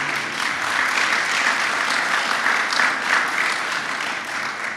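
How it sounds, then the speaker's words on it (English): A room full of attendees at a San Francisco police award ceremony applauds Mayor Breed, a loud, dense, continuous burst of clapping that holds steady for nearly five seconds before easing slightly. "round of applause for Mayor Breed, please"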